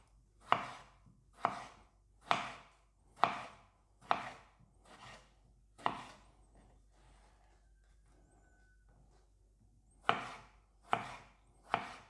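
A sharpened kitchen knife slices through a tomato in crisp, evenly spaced cuts, about a dozen clear strokes in two bursts with a short pause between, close and alone with no talk.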